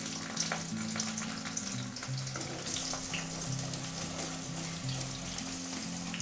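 Whole cumin, bay leaf, cloves, cinnamon, cardamom and onion frying in hot oil for a Bengali chicken liver and gizzard dish, a steady close sizzle running throughout with a low hum beneath and no talking.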